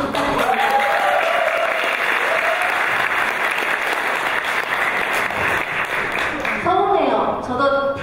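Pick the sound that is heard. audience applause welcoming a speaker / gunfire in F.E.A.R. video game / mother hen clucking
audience applause welcoming a speaker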